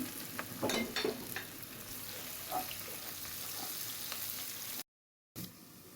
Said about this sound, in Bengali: এখন আমি পেঁয়াজ দিয়ে দিব পেঁয়াজটা একটু ব্রাউন হবে গরম মশলা দিয়ে দিলাম